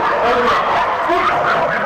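Dogs fighting inside a cafe, a dense, loud tangle of yips, whimpers and excited barking that continues without break, with voices mixed in.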